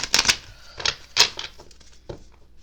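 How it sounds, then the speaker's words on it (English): A deck of cards is shuffled close up in short, crisp riffling bursts, a few quick flurries spaced apart, fairly quiet, with no talk. "You're gonna hear me shuffle,"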